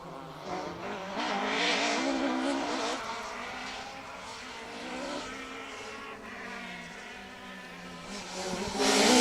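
A blue Ford Escort Mark II rally car on a stage rally passes with a revving, rising and falling engine note, fading and returning at moderate distance over outdoor background noise.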